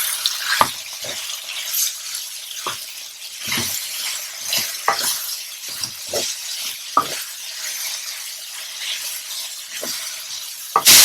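Venison with cumin and spices cooking in a pan, giving a steady low sizzle broken by repeated clinks and scrapes of stirring, fairly close and without talk.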